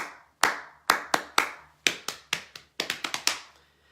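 Sharp hand claps and pats ring out in a lively rhythmic pattern, about a dozen crisp hits, first spaced evenly, then bunching into a quicker run near the end, close and clear with no voices.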